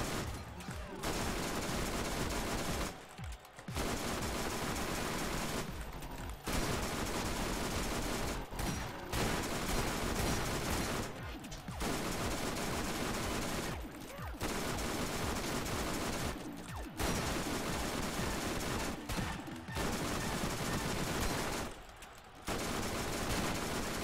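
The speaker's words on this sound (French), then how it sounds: "C'est une sorte de fusil à pompe lance-roquette." Gunfire from a shotgun-style rocket launcher in the Borderlands video game, loud dense sustained volleys repeating in long bursts with brief gaps between them, dominating the mix.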